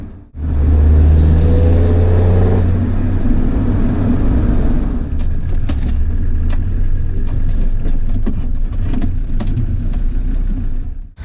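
A Land Rover Defender's engine drones steadily and loudly while the vehicle leaves the motorway. Road roar and a low engine hum run continuously, with a few faint clicks near the end.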